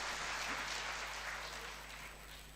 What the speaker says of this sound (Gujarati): ચાલો તમારા માટે જ તાળી પાડો.